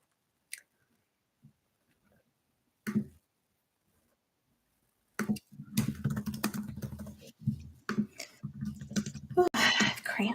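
Computer keyboard typing comes in scattered isolated taps at first, then in quick irregular bursts of clicks, close and fairly quiet with pauses between runs.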